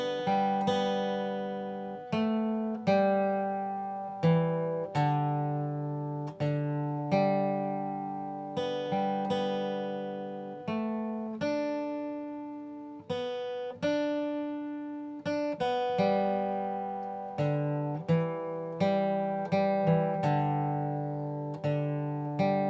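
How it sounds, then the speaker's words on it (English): A guitar played in first position with open strings and index-finger fretting picks out Amazing Grace as a slow single-note melody, each note ringing and decaying alone. "Now we're going to apply the principles we learned to a second tune, Amazing Grace"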